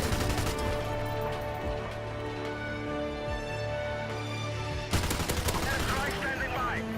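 Sustained full-auto bursts from an RPD light machine gun in Modern Warfare Remastered, rapid and dense, with a brief pause before firing resumes, heard under a voice-over.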